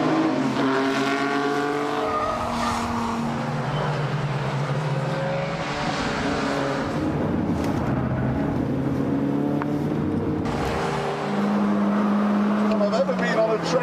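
A Mini races around a track against Formula One cars, its engine roaring steadily at high revs, with the pitch rising and falling through gear changes. The engine stays loud and close throughout, and someone talks over it.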